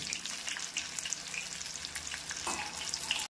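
Jackfruit-rind fritters (bajji) frying in a small pan of hot oil, a steady close crackling sizzle with bubbling pops throughout, a few sharper spatters near the end, no voices.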